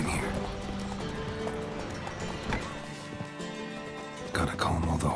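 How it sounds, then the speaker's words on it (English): Horses in The Witcher 3 Wild Hunt clopping and whinnying, a busy game soundscape with overlapping hoofbeats and a sharper burst near the end, with speech audible. "Gotta calm all the horses before they wake the guards."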